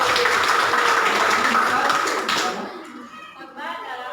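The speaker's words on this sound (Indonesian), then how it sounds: "Beri tepukan sama" Audience of students in a school setting clapping together, a dense burst of applause for about two and a half seconds that fades out, followed by quieter voices talking.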